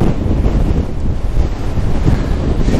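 Heavy crosswind batters the microphone of a cyclist, a loud continuous low rumbling roar with gusting surges throughout.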